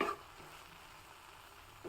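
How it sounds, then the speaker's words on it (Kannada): Quiet, steady sizzling of a spice tempering with ajwain poured from hot oil over cooked red amaranth, with brief louder crackles at the start and end. "ಇವಾಗ ರೆಡಿ ಮಾಡಿರೋ ಒಗ್ಗರಣೆನ ಹಾಕ್ತಾ ಇದ್ದೀನಿ"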